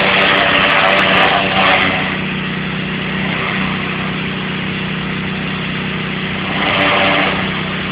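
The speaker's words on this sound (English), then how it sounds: "We're using a turbo nozzle here, which covers a lot of ground at once." Gas pressure washer fitted with a turbo nozzle, cleaning the fascia, soffit and siding of a lakeside house in Minnesota. It gives a loud, steady engine drone with a broad rushing hiss that swells slightly at the start and end, with no voices.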